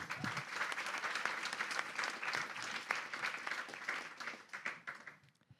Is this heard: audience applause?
yes